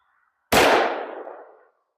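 A single sharp shot from a 5-inch 1911 pistol firing 40 Super DoubleTap 135gr controlled-expansion ammo cracks loudly and decays over about a second.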